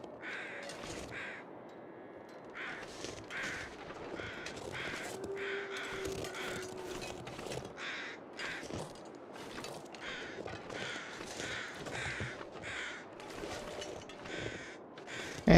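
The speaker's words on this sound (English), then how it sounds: "we could check out the crow party." A crowd of crows in a video game caws repeatedly, many overlapping calls at a moderate distance in a steady, busy chorus with no talk.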